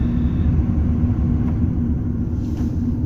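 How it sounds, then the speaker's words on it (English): A truck engine idles with its air conditioner running, giving a steady low rumble and a constant hum heard from inside the cab, with no talking. "it's because I've got the air conditioner running and the truck running."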